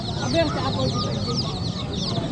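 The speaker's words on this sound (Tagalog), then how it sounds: "Daming sisiw oh." Chicks and chickens clucking and peeping continuously at a busy livestock market, a dense chorus of fowl close by with crowd chatter mixed underneath.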